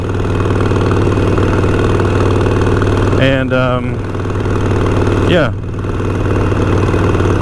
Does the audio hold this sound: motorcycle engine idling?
yes